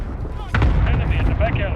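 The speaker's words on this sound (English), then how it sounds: "Enemy cluster strike incoming." Cluster strike explosions in a video game, a sudden heavy blast followed by rumbling, crackling bursts, loud and close, with a voice speaking over them.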